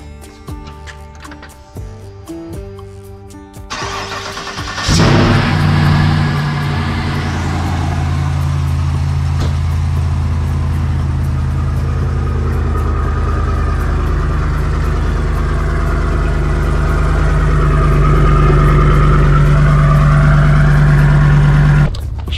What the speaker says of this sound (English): gonna show me the cold start on the Legend